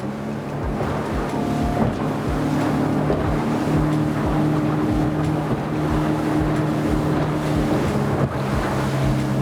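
An outboard motorboat engine drones steadily at 4,000 revs, just under 26 knots, with water rushing past the hull and wind buffeting, loud and continuous with no talk.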